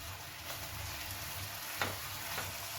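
Spice paste with sour yogurt being sautéed for a Bengali prawn curry, giving a steady low sizzle with a few spoon scrapes against the pan, close and fairly quiet, no voices.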